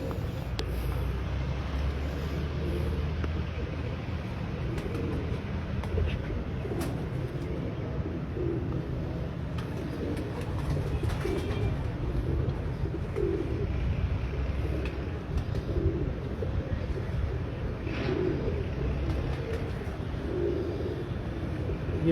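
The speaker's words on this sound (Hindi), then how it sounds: "ये काले मुंह वाला प्योर काले मुंह वाला कबूतर है।" Black-faced pigeons coo softly on a rooftop loft in Sialkot, low murmuring calls repeating through a steady outdoor background with some wind.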